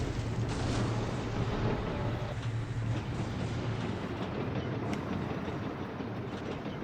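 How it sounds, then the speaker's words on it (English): A TOW missile launcher firing in the Mercenaries: Playground of Destruction game, a steady loud rumbling roar with a low drone, continuous for several seconds and without any speech. "Sniping with a tow missile launcher."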